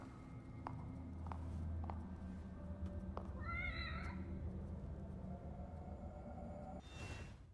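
A cat meows a few times in the video game The Evil Within DLC, faint, short cries over a low droning ambience with scattered clicks and a brief rush of noise near the end.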